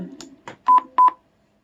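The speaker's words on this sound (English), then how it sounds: "that double beep tells you that you're at the end of the stop." Electronic voice-changer gadget gives a crisp double beep, two short identical tones in quick succession, up close after some brief garbled electronic sounds.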